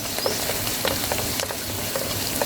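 Masala, green chillies, black pepper and cumin sizzle in hot oil in a pan for chicken mandi, a dense, close, steady frying crackle with a few soft stirring scrapes and no talking.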